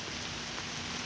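Steady, dense rain falls on wet leaves in the woods on a rainy-day bow hunt, a continuous close hiss of patter with no talking.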